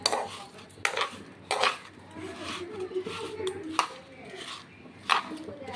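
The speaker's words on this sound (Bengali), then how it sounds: "এবার চিনির সাথে চাল কুমড়োটা ভালো মতো মিশিয়ে নিব।" A utensil stirs ash gourd pieces with sugar in a metal pot, scraping and clinking in irregular bursts at close range.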